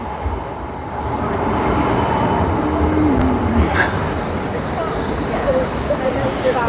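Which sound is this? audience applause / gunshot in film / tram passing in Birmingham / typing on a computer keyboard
tram passing in Birmingham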